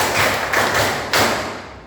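Students in a middle school science class do a rhythmic spirit clap, three loud, dull, unison claps in a quick pattern, each ringing briefly in the room before fading.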